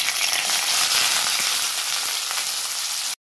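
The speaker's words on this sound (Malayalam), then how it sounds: "അതിലേക്ക് ആവശ്യത്തിന് വെളിച്ചെണ്ണ ഒഴിച്ചിട്ടുണ്ട്. ചൂടാവുമ്പോൾ ഇതിലേക്ക് നമുക്ക് സവാള അരിഞ്ഞതിട്ട് കൊടുക്കാം" Chopped onions fry in hot coconut oil for a Kerala-style pork dish, a loud, even sizzle close by that cuts off abruptly near the end.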